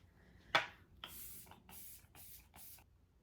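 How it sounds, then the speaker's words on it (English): Several short spritzes of e.l.f. Power Grip setting spray from a pump bottle during a bridal makeup routine, a sharp first burst followed by four quieter, evenly spaced hissing sprays, close up with no talking. "we're gonna use the e.l.f. Power Grip Setting Spray."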